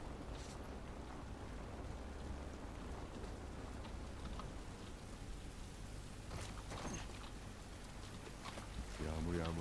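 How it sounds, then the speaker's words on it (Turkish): Rain falling in the video game The Last of Us Part 1, a steady dense hiss of rainfall with scattered drops and a low rumble, continuous throughout with faint voice-like sounds mixed in. "Yağmur yağması hiç iyi oldu."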